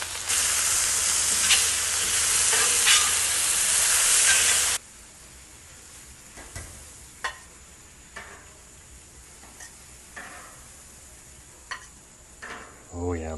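Bacon and corn fry loudly on a Blackstone griddle for about five seconds. The sizzle then stops, leaving quiet scrapes and soft clatter with faint voice sounds.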